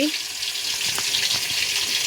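Fish fries in a pan with a brief, steady hiss and sputter of hot oil, heard at close range.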